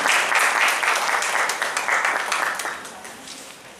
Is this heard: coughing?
no